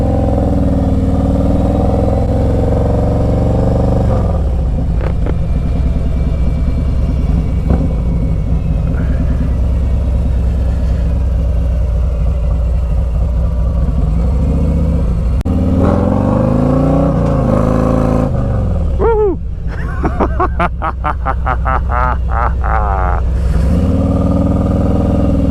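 Harley-Davidson Street Glide Special FLHXS motorcycle riding on a busy interstate, its loud engine rumbling continuously up close, with repeated rising revs as it accelerates and shifts through gears.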